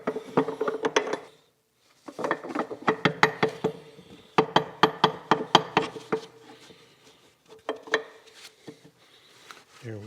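A steam stoker engine's connecting rod gets its pin fitted, with bursts of rapid metallic knocks and clinks in uneven clusters, brief gaps between, close and fairly quiet.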